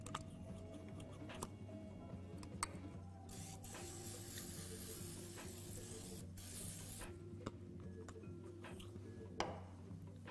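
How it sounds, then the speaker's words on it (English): Grapeseed oil spritzed from a spray can into a 13x9 baking dish, heard as several short hissing bursts against a quiet kitchen background. "we're just gonna spray this with a little bit of grapeseed oil"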